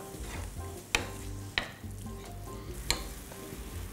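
Minced beef fries in a pan with a soft continuous sizzle under a low rumble, punctuated by three distinct spatula scrapes or clacks, close but fairly quiet.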